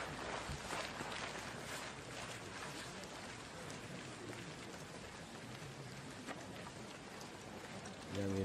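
Steady rain falling on a golf course during the final round of a women's tournament in Korea, a dense even hiss filling the whole stretch with no speech.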